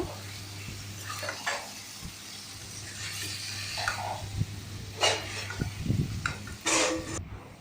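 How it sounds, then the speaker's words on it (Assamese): Faint sizzling in a pan as taro fries with meat, with intermittent scraping and clanks of a spatula turning food, against a low steady hum. "ধুনীয়াকৈ ভাজি ল'ব ক'লা কচুটো"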